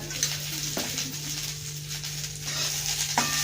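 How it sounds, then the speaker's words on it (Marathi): Tender sorghum hurda roasts with a spoon of oil in a hot kadhai over medium gas, giving a steady close sizzle with a couple of sharp scrapes as it is stirred. "दोन ते तीन मिनिटापर्यंत हा हुरडा व्यवस्थित परतवून घ्या"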